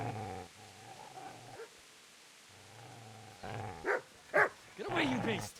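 A dog growls low in bursts, then whimpers and yelps in sharper rising cries, close and fairly quiet, mixed with a person's voice.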